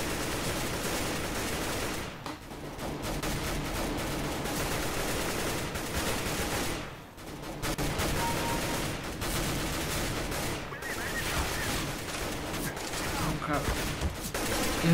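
Sustained CS:GO gunfire: rapid automatic shots and overlapping fusillades rattle almost continuously, loud and dense, with brief lulls around the middle.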